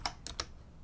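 Three quick keystrokes click on a computer keyboard, close and fairly faint, followed by quiet room tone.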